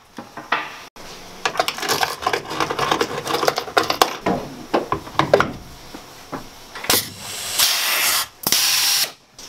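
Drill boring a rib nut hole into a Ford Transit steel frame, with a clamp holding the piece; bursts of grinding, ratcheting metal cutting come in uneven spurts with short pauses, loud and close, ending in two sustained hissing runs.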